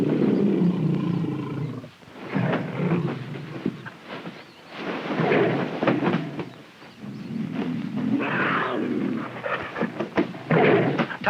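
A tiger caught in a net trap roars and snarls loudly and close, in several heavy, rumbling bursts with short pauses between them.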